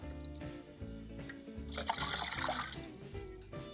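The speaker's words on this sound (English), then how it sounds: "And you can add 1 cup of water or 1 cup of broth." A cup of water or broth is poured into an Instant Pot with a whole chicken, a soft splashing trickle rising for about a second and a half over quiet background.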